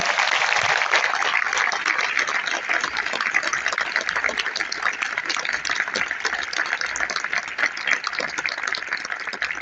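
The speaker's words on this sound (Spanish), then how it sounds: "para quien vuelvo a pedir otro gran aplauso" A large audience at a book fair gathering breaks into sustained applause, steady crowded clapping that stays loud and continuous for nearly ten seconds without speech.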